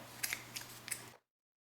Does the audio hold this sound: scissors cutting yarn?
yes